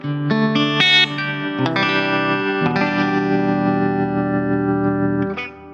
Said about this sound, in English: And there you can already kind of hear some nice tremolo effect movement of the volume.